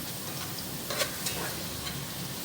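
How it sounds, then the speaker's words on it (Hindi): Cloves and white cumin frying with onions in oil for Egyptian-style rice pulao, a steady soft sizzle with faint stirring scrapes and a couple of brief clinks, no voices. "मैं प्याज के साथ लौंग और ज़ीरा फ्राई कर रही हूँ।"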